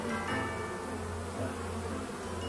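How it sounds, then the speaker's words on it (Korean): A honeybee gives off a continuous, low droning buzz at close range, steady and moderately quiet, with no voices over it. "여기 보시면 꿀벌 한 마리가 있는데"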